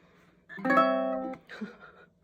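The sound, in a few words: ukulele chord melody strum and pluck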